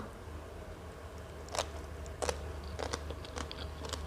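Crunchy papaya salad and salmon roe are chewed up close in a few crisp bites, each followed by softer wet chewing, over a low room hum.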